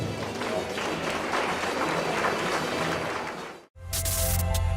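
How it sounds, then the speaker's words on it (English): Applause at a motorsport awards ceremony, a dense sustained round of clapping that fades into a brief gap before loud music or noise cuts in. "Give them a big round of applause"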